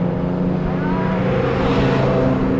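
A car from a rally passing along a country road in the Yorkshire Dales, a steady loud engine roar with rushing wind noise, heard close throughout.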